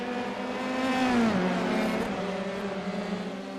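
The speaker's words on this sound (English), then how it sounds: "Long train of cars as they continue to race here" Open-wheel F3 race cars in iRacing at Brands Hatch drone past in a steady engine chorus, one car's pitch sweeping downward as it passes close, others humming continuously behind.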